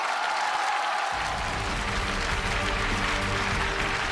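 Applause from a concert audience for a Tibetan folk song performance, a broad continuous roar of clapping and crowd noise that swells in after a second and holds steady.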